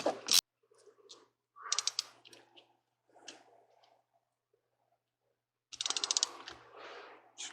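A lock nut is torqued down on a Sumo Spring in a Workhorse RV chassis, giving quiet metallic clicks and ratcheting bursts separated by pauses, with a louder run of clicks near the end.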